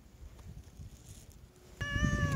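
A stray cat gives a single clear, tonal meow near the end, close by, after a stretch of quiet outdoor background.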